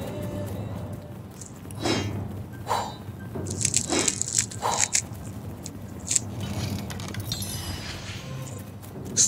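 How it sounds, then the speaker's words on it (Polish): Someone chewing a corn puff snack close to the microphone, irregular soft crunches and squishy bites in short bursts over a quiet background. "Wybaczcie, ja sobie jem chrupkę kukurydzianą"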